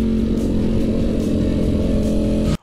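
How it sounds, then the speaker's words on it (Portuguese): Ducati Panigale sport motorcycle accelerating hard in a street drag race, a loud, steady high-revving engine roar held close for over two seconds before cutting off abruptly. "Ô, muito forte essa Panigale aí"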